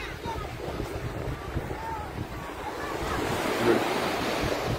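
Ocean waves wash ashore at the Mumbai seashore in a steady, broadband roar with wind noise across the microphone, growing slightly louder toward the end.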